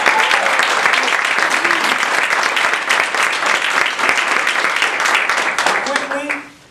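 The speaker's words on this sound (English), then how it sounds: "please give a round of applause for all of our dignitaries on today" A crowd at a Toastmasters table topics contest applauds its dignitaries, loud sustained clapping close by that carries on for several seconds, with faint voices underneath before it fades out at the end.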